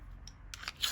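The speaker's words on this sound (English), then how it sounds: "I'm just going to give my pencil a little bit of a sharpen." A coloured pencil is turned in a handheld sharpener, giving short dry scraping and rasping strokes that grow louder toward the end, close and alone.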